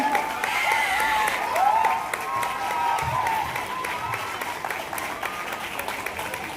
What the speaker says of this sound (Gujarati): તો જોરદાર તાળીઓ સાથે આપણે એમને વેલકમ કરીશું.